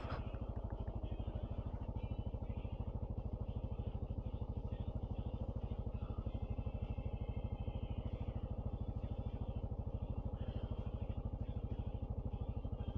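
A motorcycle descends slowly down a steep, rocky trail on Harquahala Mountain, its engine a steady low idle-like putter with faint clatter, continuous and moderately quiet throughout.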